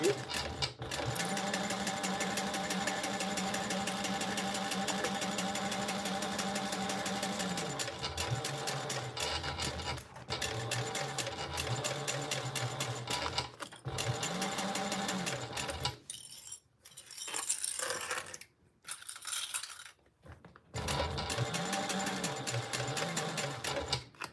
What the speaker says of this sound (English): right now we're just basting these guys together